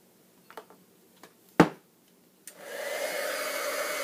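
A heat tool switches on after a few small clicks and taps and blows a steady, close whooshing hum while heat-setting Mod Podge on a hand-cut paper flower.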